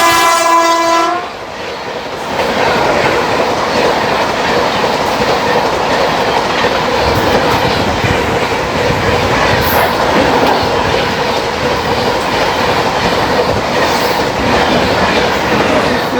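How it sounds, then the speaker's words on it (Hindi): Tejas Rajdhani Express no. 12952 on the Mumbai–New Delhi route passes close by, opening with a brief horn blast and then a loud, steady roar of rumbling wheels and rail clatter. "सामने से आ रही है 12952 मुंबई न्यू दिल्ली मुंबई तेजस राजधानी एक्सप्रेस।"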